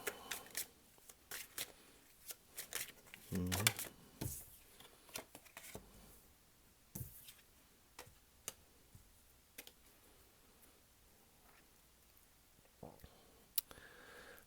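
Tarot cards are shuffled and handled in a quiet room, giving soft scattered clicks, flicks and riffling taps, with a brief louder burst early on, all faint and close.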